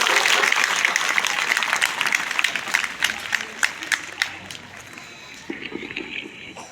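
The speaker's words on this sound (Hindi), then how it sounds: "एक बार ताली बजा दो" A crowd claps at a school parent-teacher meeting in 2023, with dense, loud applause at first that slowly thins into scattered individual claps, and faint voices come through near the end.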